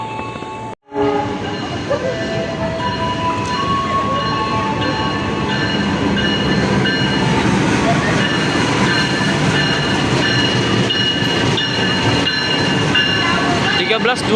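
Pangrango passenger train running on the railway in Indonesia toward Sukabumi, a steady loud rumble of wheels on track with continuous rolling noise and high tonal squeals throughout.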